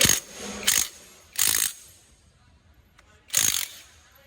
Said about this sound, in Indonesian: Untuk membuka puli belakang yaitu menggunakan mata shock berukuran 19. Masukkan, tahan, putar.